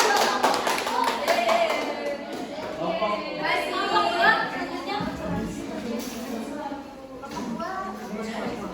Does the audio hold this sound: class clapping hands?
yes